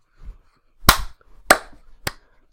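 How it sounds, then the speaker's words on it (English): Three sharp, close hand claps ring out at a steady, moderately quick pace with short gaps of near silence around them. "That's me slow clapping, but not very slowly."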